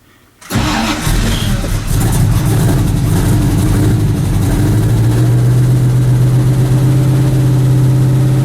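A cold engine cranks and catches after about half a second, then settles into a loud, steady idle with a low hum that firms up toward the end, running alone without talk.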